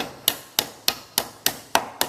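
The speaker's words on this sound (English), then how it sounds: "Place the plug on the hole and just a couple light taps" A hammer lightly taps a wooden dowel plug into a countersunk hole, seven crisp, evenly spaced taps close up with no voices.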